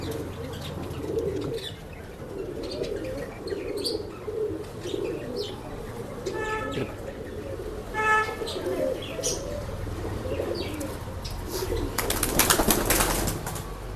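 Pigeons coo and chirp in a pet shop in Bangalore, soft repeated calls over a steady busy background hum, with a few clearer bird calls and a louder burst of activity near the end.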